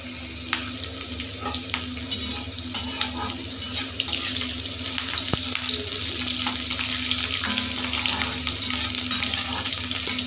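Steady sizzle of onions frying in a pan, with occasional stirring scrapes and a running-water wash in the background.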